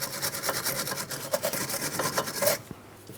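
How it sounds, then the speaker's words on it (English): Wire brush scrubbing rust off rear sway bar link hardware near the emergency brake cable on a 2003-2007 Cadillac CTS, a close, steady raspy scraping in quick repeated strokes, with no talk. "I'll just use my wire brush."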